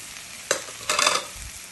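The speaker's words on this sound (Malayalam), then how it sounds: "ഇതിൻ്റെ പച്ചമണം മാറുന്ന വരെ നല്ലപോലെ സോക്ക് ചെയ്തെടുക്കണം" Coriander and pepper powder being sautéed in a pan for prawn theeyal: a quiet sizzle broken by a sharp scrape and then a short burst of stirring, close and without any talking.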